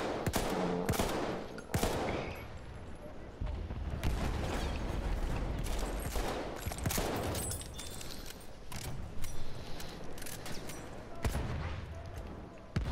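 SVT rifle gunfire in Battlefield 1: several sharp shots ring out over a steady rumble of battle noise, some close and some more distant, spaced irregularly over about thirteen seconds.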